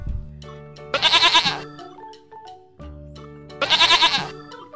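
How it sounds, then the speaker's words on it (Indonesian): A toy white sheep lets out two loud, electronic-sounding bleats, each about half a second long, separated by a pause and set against a synthetic musical tone. "ada domba warna putih, teman-teman."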